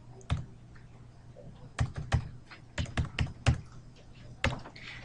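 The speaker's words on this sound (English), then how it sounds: "So let's just type in the values." Keys on a computer keyboard tapped in short irregular bursts while entering numeric values, crisp separate clicks with pauses between, close and fairly quiet, no talking.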